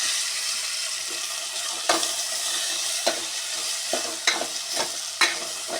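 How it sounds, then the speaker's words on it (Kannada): Spices and turmeric fry in a pan with a steady, loud sizzle, broken by several sharp scraping stirs at irregular intervals; no voices. "ಈಗ ಇವಿಷ್ಟು ಒಟ್ಟಿಗೆ ಫ್ರೈ ಮಾಡ್ಕೊತೇನೆ"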